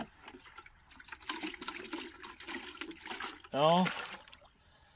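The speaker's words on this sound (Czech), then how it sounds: "A já ho sem naliju." Yeast and sugar solution is poured out as a short, close liquid gush near the end, after quieter trickling and handling sounds, with a brief spoken word.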